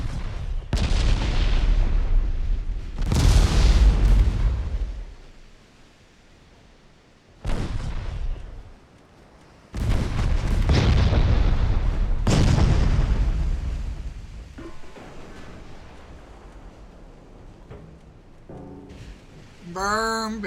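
High-explosive naval shells burst in the warship game Ultimate Admiral Dreadnoughts: a series of heavy, loud booms with rumbling tails, several seconds apart, then quieter lingering rumble.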